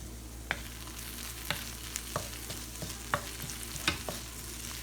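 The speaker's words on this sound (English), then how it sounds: "So I'm just really sauteing the ashio, and you really want it to cook." Ashio sautés in a pan over fairly high heat as a vegan Haitian legume dish is made. A soft, steady sizzle carries light, evenly spaced scraping stirs, with no voices.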